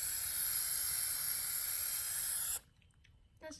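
Aerosol spray paint hisses steadily onto a dirtbike fender, laying down black as a base coat for hydro dipping; the loud continuous spray lasts about two and a half seconds, then cuts off, leaving near-silence with a faint stir at the end.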